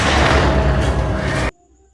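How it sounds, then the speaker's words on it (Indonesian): A single gunshot fired by a woman in a Turkish drama series, a loud, dense blast sustained for about a second and a half before cutting off abruptly into near silence. "Sontak, Hande marah dan mengarahkan tembakan ke Yaman."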